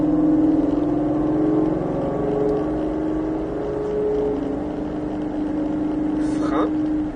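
Ford Mustang Shelby GT500 V8 with 760 horsepower accelerating on the Nogaro race circuit, heard from inside as a loud, steady engine drone that rises in pitch, with a brief rasp near the end.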